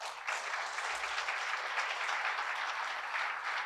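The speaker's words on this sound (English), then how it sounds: "a huge round of applause for us all" Sustained applause from an audience at a leadership series talk, a dense steady wash of many hands clapping throughout, moderately distant and without speech.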